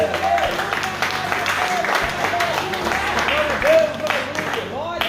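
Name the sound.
congregation applause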